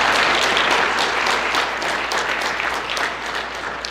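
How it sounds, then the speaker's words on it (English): A crowd claps loudly and steadily for two players' parents at a high school football senior signing day, a dense burst of applause fading slightly toward the end. "So if we can clap it up for those 2 parents,"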